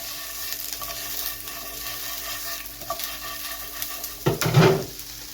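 Bacon frying and being stirred in a pan, a low steady sizzle under scattered scraping, ending with a louder burst of clattering stirring against the pan near the end.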